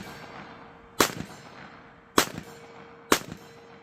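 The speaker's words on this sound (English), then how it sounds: "Hard to hear these at 50 because the muzzle report is so loud on this 22 mag" Three sharp shots from a Walther WMP .22 WMR (.22 Magnum) pistol fired semi-rapid at a 50-yard range, loud cracks spaced about a second apart, each with a short ringing tail.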